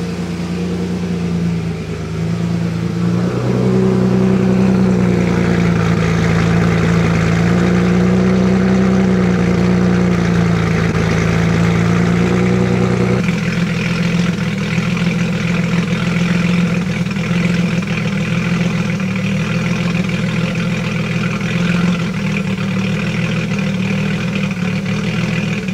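A turbocharged Nissan Z engine idles with a deep, steady rumble, then revs up and holds a raised, droning pitch before dropping back to a rougher idle, loud and close throughout with no talk.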